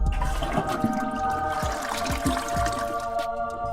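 A toilet aboard a space station in zero gravity runs with a flowing, gurgling rush of air and fluid, plus some knocks and clunks near the end, and no talk over it.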